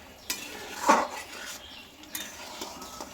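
Raw mango pickle cooked with jaggery is stirred in a pan, giving a few scattered scrapes and clinks of a spoon against metal, with one louder scrape early on, all close and with no voices.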